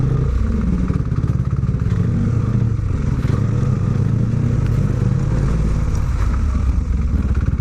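A motorcycle riding along the road, its engine a loud, continuous low rumble with steady mechanical clatter and a rough, droning tone from start to finish.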